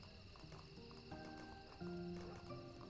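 Horse hooves clip-clop at a steady walking pace in The Wild Age video game, over a constant layer of game music with sustained tones.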